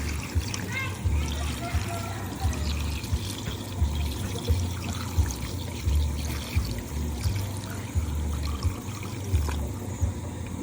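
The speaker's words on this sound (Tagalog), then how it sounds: "Unya, butangan nato og tubig." Water poured into a cooking pot of native chicken for tinola, a soft trickling, splashing pour running under nearby talk in the kitchen.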